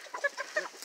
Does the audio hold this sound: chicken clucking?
yes